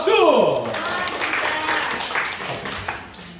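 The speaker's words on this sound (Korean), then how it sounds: "박수!" Applause from a youth-group congregation at a church worship service, a dense patter of many hands that follows a brief voice and fades toward the end.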